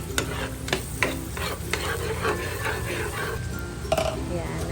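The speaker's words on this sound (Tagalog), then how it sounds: "Nagisa lang po ako ng butter and sibuyas." Butter, onion and toasted garlic sautéing in a pan, a bright continuous sizzle broken by spatula scrapes and light clinks of metal on the pan, heard close while a voice talks over it.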